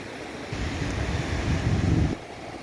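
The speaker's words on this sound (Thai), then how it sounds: "ทะเลแหลมสิงห์ ตรงนี้จะเป็นปากแม่น้ำ นี่คือปากแม่น้ำจันทบุรี" Sea waves rolling in at Laem Sing beach by the Chanthaburi river mouth in Thailand, a broad rushing surge that builds and then drops away, mixed with wind buffeting the microphone and no voices.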